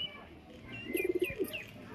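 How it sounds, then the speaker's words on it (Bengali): A Rampuri pigeon coos in a short rhythmic burst of low, throaty pulses, close and clear against a quiet background with faint chirps. "এরাও ডিম পাড়বে, সব পায়রা ডিম পাড়বে"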